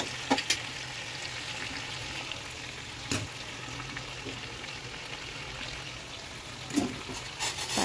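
Chicken being sautéed with spices in a pan for a home-style deshi chicken kasa, a steady close sizzle and frying hiss with occasional stirring scrapes and clinks, no talk.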